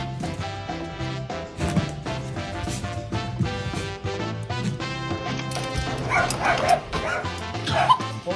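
A Shiba dog barks and yips repeatedly in short bursts over steady background music.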